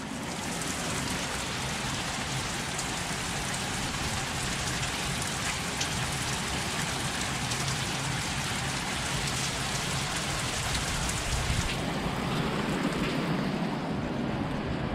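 Heavy rain pours down steadily and loudly, a dense hiss of drops hitting surfaces throughout, with no voices.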